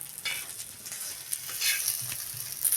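Tilapia fillets sizzle as they fry in a pan, a soft continuous crackle with occasional turning and scraping noises, close but fairly quiet, no voices.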